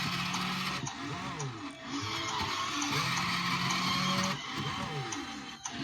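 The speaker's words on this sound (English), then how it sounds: "the car cycles around, shoots the mist up every time it does like the little burnout action" A Tomica Fast & Furious toy drift stage runs its small car through a looping burnout action, giving a steady mechanical whir with repeating squeal-like sweeps and a few clicks, close and continuous throughout.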